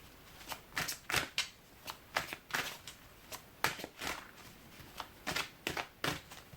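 Tarot-style cards are shuffled by hand during a reading, a quiet, close series of quick riffling and slapping bursts in an irregular rhythm.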